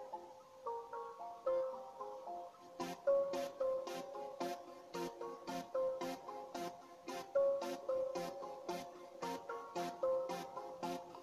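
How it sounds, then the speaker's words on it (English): An amapiano D tune melody built in FL Studio Mobile plays softly, a bouncing synth line that is joined partway through by crisp, regularly repeating high percussive ticks, with no one speaking. "My next instrument is the most popular instrument in amapiano,"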